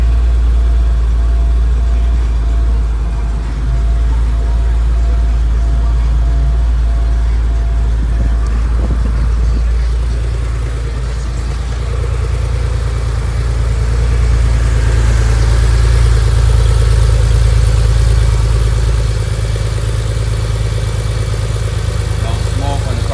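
A 1996 Porsche 911 Carrera 4 with factory turbo-look body idles steadily, a smooth low engine rumble held throughout, close and loud, with people talking over it now and then.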